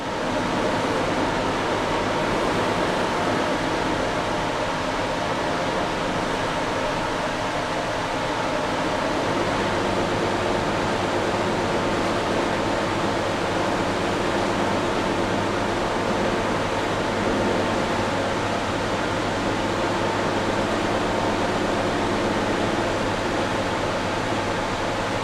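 A buffing wheel polishes a Stratocaster guitar body with a loud, steady whooshing hum that stays constant and even throughout, with no voices.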